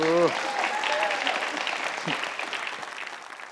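Studio audience applause and whistles on a Tamil TV game show, a steady wash of clapping that follows a short whistle, continuing under a voice and gradually thinning.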